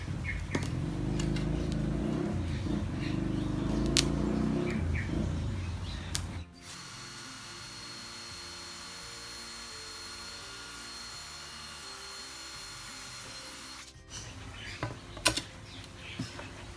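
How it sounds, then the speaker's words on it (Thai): A power drill bores holes into a plastic tank for a drip irrigation setup, grinding steadily for several seconds, then a long pause of near silence before brief clicks and handling noises close by. "เราก็จะเจาะรูที่ถังพลาสติกนะครับ"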